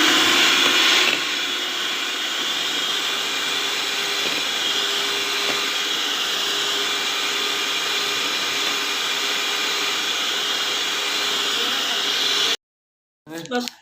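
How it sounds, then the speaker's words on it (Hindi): An electric beater whirs loudly and steadily as it whips tea cake batter with sugar, a constant buzzing drone lasting about twelve seconds before cutting off abruptly, followed by a brief clatter. "दोबारा फिर हम इसे बीट करेंगे, उस वक्त तक करेंगे जब तक चीनी इसमें अच्छी तरह मिक्स ना हो जाए।"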